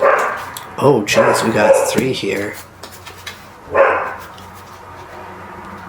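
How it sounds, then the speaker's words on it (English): Several dogs barking outside, loud repeated barks and yips in bursts over the first half, then another bark cluster later, with a person speaking briefly over them indoors. "I'm sorry about the dogs."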